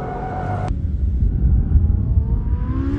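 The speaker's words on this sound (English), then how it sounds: "The double clutch gearbox is amazing, really fast shifts, and up to the hairpin you can see top speed is over 90 miles an hour" A sports car with a double-clutch gearbox and ceramic brakes accelerates hard toward a hairpin, its loud, close engine rumbling steadily, then a rising whine builds near the end.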